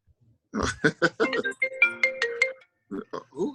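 An incoming FaceTime call ringtone chimes on a phone, a rhythmic melodic pattern of short tones that is loud and close, interrupting people talking.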